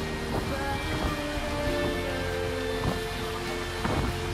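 Wind at sea aboard a sailboat on the Mediterranean, about 8 knots, blowing as a constant roar against the microphone with periodic thumps and splashes from the hull, loud and close throughout.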